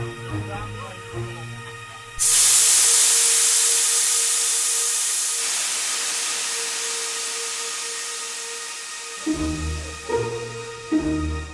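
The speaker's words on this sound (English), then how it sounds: "It's an old steam engine that goes from Fort William to Mallaig." A loud burst of hissing steam from an old steam locomotive on the Fort William to Mallaig line in the Scottish Highlands starts suddenly and slowly fades over several seconds, with a low rumbling hum and clanking before and after.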